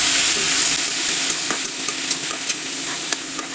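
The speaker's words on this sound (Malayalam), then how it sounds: "ജീരകങ്ങൾ രണ്ടെണ്ണം മൂത്ത് വരുമ്പോൾ നമുക്ക് മുറിച്ച് വെച്ച ആപ്പിൾ ഇട്ട് കൊടുക്കാം നന്നായി മിക്സ് ചെയ്തെടുക്കാം" Chopped apple sizzling with cumin seeds in a hot pan while being stirred, a steady frying hiss broken by light scraping taps of the spoon, close and alone.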